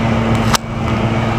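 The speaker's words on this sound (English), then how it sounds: "Sorry about the traffic, it's kind of loud here." Loud, steady road traffic noise on a city street beside an ornamental ginkgo tree, a continuous low rumble with a brief sharp burst partway through, no talking.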